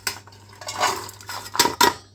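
Sweet corn kernels tumble into a bowl in a home kitchen, a few bright clattering bursts against the dish, close and distinct, with brief pauses between pours.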